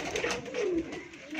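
Pigeons cooing near a loft while men look over birds for sale, a low soft rolling coo rising and falling for over a second above a steady hum of background noise.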